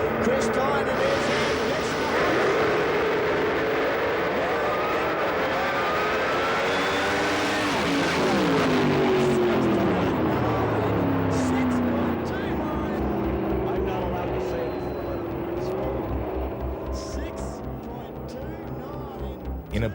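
A 1957 Chevrolet doorslammer drag race car weighing 2,700 pounds roars through a 6.29-second run at 225 mph, with loud sustained engine noise that sweeps in pitch as it passes, under commentary.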